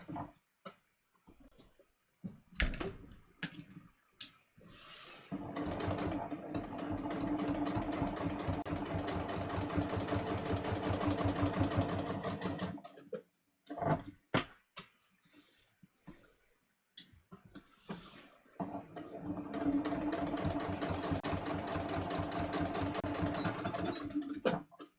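A sewing machine stitches along the fold of a pair of jeans in two long, steady runs of rapid mechanical clicking, each lasting several seconds, separated by short pauses with scattered handling clicks.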